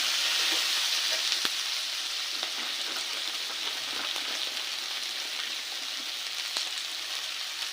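Ingredients for a potato palya frying in a pan, a bright, even sizzle that holds steady throughout, dotted with faint pops and a few light utensil ticks.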